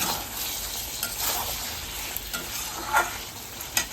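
Bengali-style chicken curry being sautéed in oil in a pan, a steady close sizzle with occasional scraping stirs and small pops, no talking.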